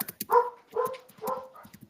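A dog barks three times in quick succession, close and fairly loud, with short gaps between the barks and no talking.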